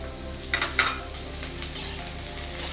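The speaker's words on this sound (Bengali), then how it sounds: "তেলের উপর কেটে রাখা পেঁয়াজগুলোকে ছেড়ে দিলাম।" Sliced onions hit hot oil in a wok and fry with a steady, close sizzle, broken by a few sharp clinks and scrapes of stirring; no one speaks.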